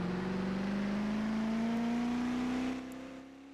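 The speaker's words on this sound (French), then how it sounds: "Du dérapage" Car drifting in the video game Giant Mansion Tycoon, with a steady engine whine that climbs slowly in pitch and then drops off sharply near the end, no talking.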